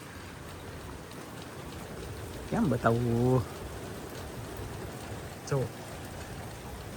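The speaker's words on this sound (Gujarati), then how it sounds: "આ જો ટીપા પડી રહ્યા છે પડપડ બોલે છે સંભળાતું છે તમને" Raindrops fall during a stormy spell at a farm after sowing, making a steady, soft patter throughout. A person speaks briefly partway through, with a second short vocal sound later.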